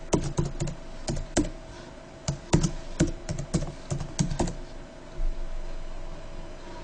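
Computer keyboard typing in rapid irregular bursts of close, crisp key clicks, pausing near the end, heard alone.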